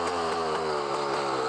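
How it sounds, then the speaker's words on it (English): Enduro dirt bike engine still running after a tip-over, a fast buzzing two-stroke-like idle rising slightly in pitch, close and steady with no voices. "the bike's still running"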